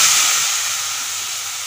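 Washed grated carrots dropped into hot ghee for carrot halwa, an immediate loud hissing sizzle that settles and fades slightly over under two seconds.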